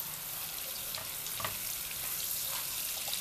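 Butter melting for a white sauce sizzles softly in a pan while being stirred, a faint continuous crackle with light scraping strokes and no voices.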